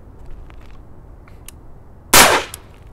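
A single loud gunshot through an over-barrel suppressor cracks sharply partway in, preceded by quiet faint clicks and followed by a brief fading tail.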